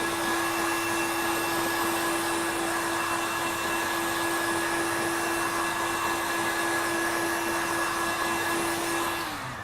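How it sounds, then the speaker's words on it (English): Hot air gun blowing steadily at close range to dry a turned wood piece, a continuous loud whooshing roar with a constant high whine, running without a break until it cuts off at the very end. "Just giving that a little dry off now with a hot air gun."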